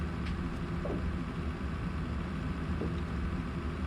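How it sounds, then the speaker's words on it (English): Steady low engine rumble of the default American locomotive sound in the Open Rails train simulator game, a continuous idling drone with no talk over it. "the 66 is just the default American engine sound"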